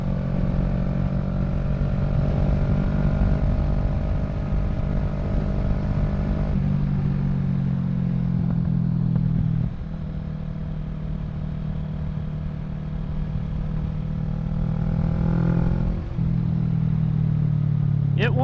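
A Kawasaki Z650 motorcycle fitted with a Yoshimura Alpha exhaust runs with a steady, loud, close-up engine drone, its pitch stepping down and back up a couple of times as the throttle eases and returns.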